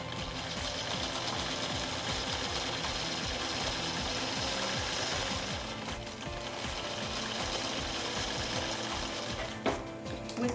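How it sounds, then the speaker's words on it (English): Sewing machine stitching quilt fabric blocks along a diagonal line, a steady close mechanical whir of needle and motor running continuously, with a brief clatter near the end. "I'm going to sew on the diagonal line that we just drew."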